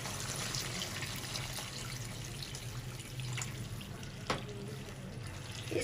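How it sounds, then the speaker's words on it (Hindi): Two glasses of water pour into a cooking pot of mutton with whole tomatoes, a steady close splashing stream running for several seconds alone, ending with a small splash. "2 गिलास पानी डालेंगे।"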